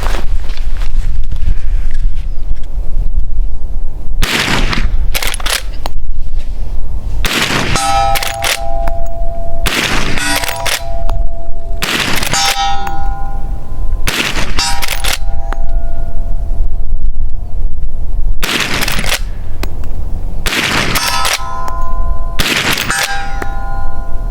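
Lever action rifle shots at a 200 yard competition, each followed by a sharp metallic clang or ring of steel targets, about eight loud impacts spaced a second or two apart over the course of string.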